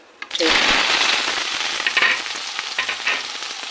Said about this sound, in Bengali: তারপরে কালো জিরে আর শুকনো লঙ্কা ফোড়ন দিয়ে ঝিঙেটা ছেড়ে দিলাম